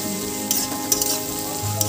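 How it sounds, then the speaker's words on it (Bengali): Ingredients for a mutton curry frying in a pan, a steady close sizzle with a few sharper crackles and stirring scrapes, no voices. "দেখো আমি এগুলো ভেজে নিচ্ছি"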